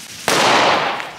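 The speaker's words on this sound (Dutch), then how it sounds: "Is dat een knaller?" Single sharp firecracker bang from a Belgian firework, loud and close, bursting suddenly after a quiet moment and trailing off in a brief fading rumble.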